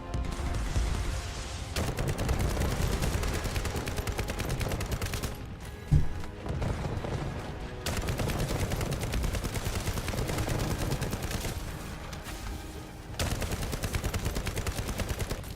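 Sustained automatic gunfire in the video game The First Descendant, long rapid-fire bursts broken by short pauses and a single heavier thump midway.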